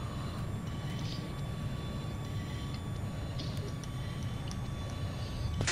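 Jet aircraft in the video game Battlefield 4, a faint, steady engine drone with a low rumble and a thin high whine, plus a few soft clicks near the end.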